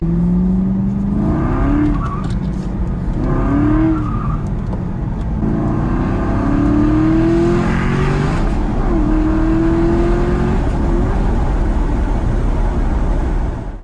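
Aston Martin V8 Vantage with a manual gearbox driving hard, its engine revving up and dropping between gear changes, close and loud throughout with steady road and wind roar.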